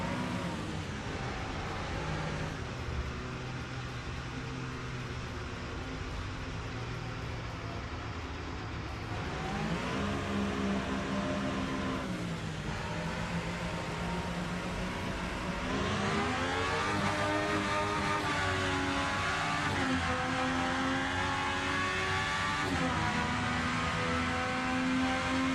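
Race car engine in a console sim racing game, droning steadily with rising and falling pitch as gears change and revs climb, loud and continuous with no talk.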